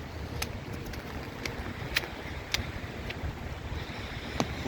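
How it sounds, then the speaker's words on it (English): Heavy pouring rain while walking outdoors in cold wind, a steady dense hiss of rainfall and wind rumble, with a few sharp nearby ticks of drops or footsteps breaking through. "It's like pouring heavy rain."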